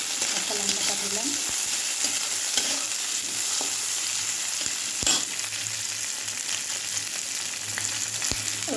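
Green chilies fry in a pan with a continuous, fairly loud sizzle, broken by scattered clicks of stirring.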